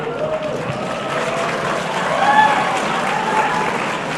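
Audience applause at a talk on the 2012 presidential campaign, a steady dense wash of clapping for about four seconds that swells slightly midway, with voices murmuring underneath.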